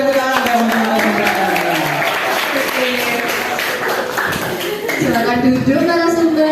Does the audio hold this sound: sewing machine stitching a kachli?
no